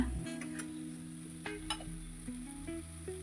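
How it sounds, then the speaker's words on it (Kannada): Pumpkin fry with tamarind pulp being stirred and roasted in a pan, giving a steady soft sizzle with light scraping stir sounds on top, close, alone with no talk. "ಅದನ್ನು ನೀಟಾಗಿ ಎಲ್ಲ ಮಿಕ್ಸ್ ಮಾಡಿಕೊಂಡು ರೋಸ್ಟ್ ಮಾಡ್ಕೊಳ್ಳೋಣ."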